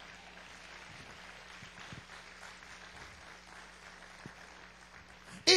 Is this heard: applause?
yes